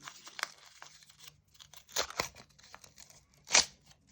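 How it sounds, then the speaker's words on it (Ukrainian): A paper packet tearing in a few short, crisp rips, with a louder final tear near the end and quiet rustling between. "Ой, порвала гарний пакетик."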